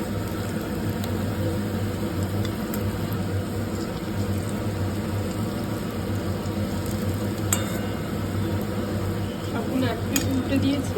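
Sajne (drumstick) leaf fritters, bora, frying in hot oil in a wok, giving a steady, continuous sizzle throughout with a low hum beneath and occasional faint clinks.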